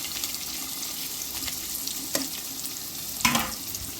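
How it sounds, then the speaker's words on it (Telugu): Chopped Telangana onions frying in hot oil, a steady close sizzle with scraping stirs and a couple of sharper clatters from the pan. "కొంచెం నూనె వేడెక్కిన తర్వాత ముందుగా కోసుకున్న తెలంగాణ ఉల్లిపాయలు"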